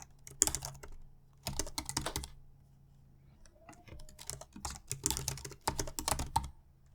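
Bursts of close, crisp typing on a computer keyboard as an email address is entered, with rapid clicking keystrokes in several clusters separated by brief pauses.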